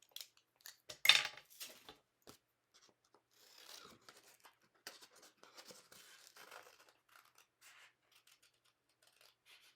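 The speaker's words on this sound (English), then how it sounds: "And I'm just going to fussy cut it." Scissors fussy-cutting around a heat-embossed paper craft piece, giving soft, intermittent snips and light rustling scrapes at close range, faint and sporadic with brief pauses and no talk.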